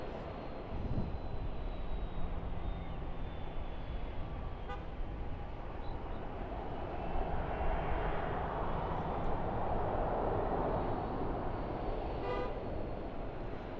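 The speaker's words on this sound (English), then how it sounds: "Virgin 73 beginning its taxi from the everything but QANTAS terminal." A Virgin airliner taxiing at Sydney Airport, a steady jet-engine roar and whine with a faint horn-like toot. Broad airport rumble fills the background and no one speaks.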